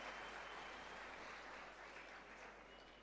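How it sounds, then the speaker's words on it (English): An audience claps steadily for three seconds after a minister's presentation at a technology-themed event, a faint, even wash of applause with no voices over it. "Let us give him a big round of applause for this wonderful presentation and interaction."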